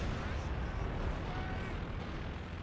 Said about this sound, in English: Big Stuka bomb hit there